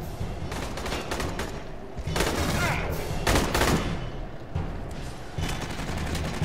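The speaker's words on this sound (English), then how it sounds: "Shoot the fuel tanks around the APC!" Rapid gunfire shooting fuel tanks in Aliens: Colonial Marines, dense bursts of automatic shots with sharper cracks and bangs, loud and continuous over game noise.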